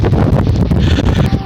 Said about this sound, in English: Hopefully you can hear me over this horrible wind because it's getting really windy out here.